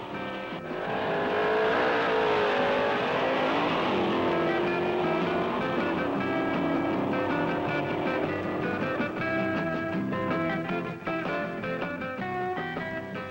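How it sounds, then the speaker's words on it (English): A 427 Mustang drag racing car at a 1964 drag meet, its engine roaring loud and continuous with shifting, revving tones for about thirteen seconds. "He calls to the line a 427 Mustang."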